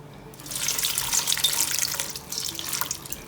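Water is poured from a cup into a cooking pot of coarsely chopped onions for chickpea halwa puri, a steady rushing splash that swells for a couple of seconds, then tapers with brief drips and trickles.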